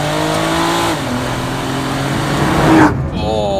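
Car engine revving hard and climbing toward the red line, a loud, strained rising drone heard from inside, shifting once and then briefly easing off as a voice speaks over it.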